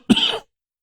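A single short cough, close and fairly loud, with a slight throat-clearing rasp, then silence.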